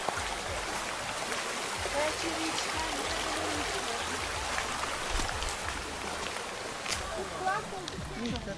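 Mountain stream in the Carpathians flowing steadily nearby, a continuous broadband rush with trickling detail, with people talking over it at times.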